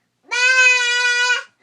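A human voice imitates a sheep with a single drawn-out, nasal bleat about a second long, clear and close with no other sound around it.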